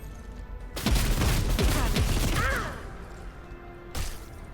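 Gunfire burst in Warhammer 40k: Rogue Trader, a dense volley of shots with whooshing impacts lasting about two seconds, then a single sharp report, all fairly loud with no talk.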